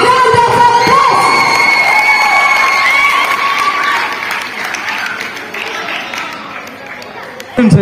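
Students and staff at a school Republic Day celebration applaud and cheer for the principal, loud clapping mixed with children's shouts and whoops that gradually thin out, then a brief burst at the end.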